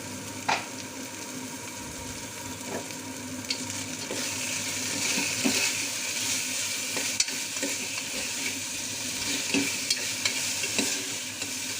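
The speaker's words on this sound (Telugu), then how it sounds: "ఇప్పుడు మాడకుండా కలుపుకోవాలి" A spoon stirs ridge gourd and chana dal curry in a hot pan, giving steady sizzling with scattered scraping clicks throughout, no voices present.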